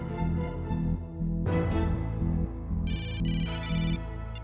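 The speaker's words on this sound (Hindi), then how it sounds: "मिस्टर मारवा फोन आंसर ही नहीं कर रहे हैं।" A telephone ringtone plays on and on with no answer, a repeating electronic melody with layered chimes, moderately loud and steady throughout.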